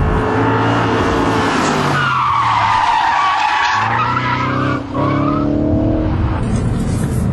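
An Audi RS4 4.2 V8 Quattro drifting, its tires squealing loudly and continuously as the car slides from one direction into the other, with the engine droning underneath throughout.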